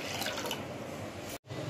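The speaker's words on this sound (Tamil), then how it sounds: "பருப்புக்கு தேவையான அளவு தண்ணி விட்டுக்கலாம்" Water poured steadily into a pot of washed lentils for cooking sambar, a close, continuous splashing stream that breaks off briefly near the end and then resumes.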